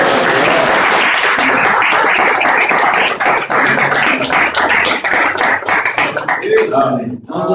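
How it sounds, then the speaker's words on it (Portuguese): A church congregation bursts into sustained clapping, dense and loud for several seconds, with voices mixed in before the applause thins out and fades near the end. "Aplauda o Senhor Jesus Cristo."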